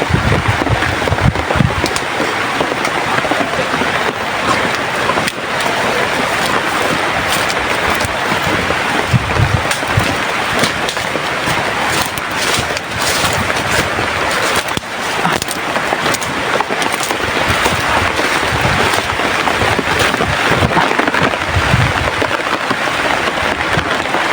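Heavy rain pours outdoors, a dense, unbroken hiss lasting the whole stretch, with gusty buffeting and rumbling against the microphone mixed in.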